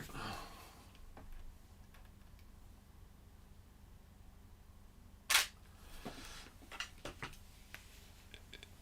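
A single camera shutter click sounds once, sharp and brief, in a quiet photography studio, followed by a few faint clicks and handling noises.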